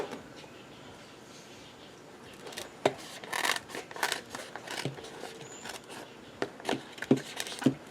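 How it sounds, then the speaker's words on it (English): Scissors snip through lipstick palm strips for a flat-bottom basket, a run of close, crisp cuts and rustles that come in uneven bursts, with no talking. "We're going to cut the other side too."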